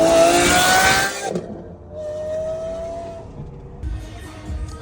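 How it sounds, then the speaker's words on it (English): A straight-piped Lamborghini Aventador SV Roadster at a supercar gathering gives a very loud, harsh exhaust blast that cuts off sharply, followed by quieter engine hum and outdoor background noise. "Lamborghini Aventador SV Roadster. This thing is straight piped. It is insanely loud."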